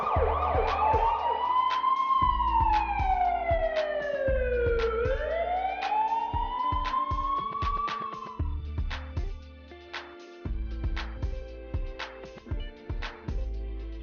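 A fire engine or ambulance siren wails loudly and steadily, sweeping slowly up and down in pitch, then breaks into shorter bursts over a rumbling motor, heard close by with no talk.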